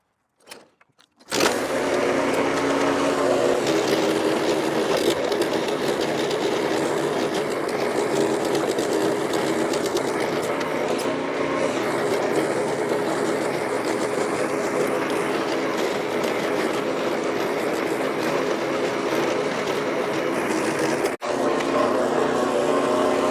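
A YARDMAX YT4565 dual rotating rear tine tiller churning soil along a garden row, a steady loud engine drone with rattling tines that starts abruptly after a brief quiet and runs unbroken for about twenty seconds.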